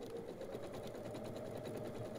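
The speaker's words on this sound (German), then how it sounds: "Ganz fix geht das natürlich auch einfach unter der Nähmaschine." A sewing machine stitches fabric strips together for a small handmade bag, giving a steady, rhythmic mechanical whir that runs continuously without pause.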